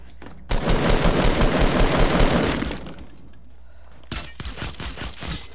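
Sustained burst of suppressed machine gun fire in a video game, dense rapid rattling for about two seconds, then a pause and a second shorter volley of quieter shots, with no talk.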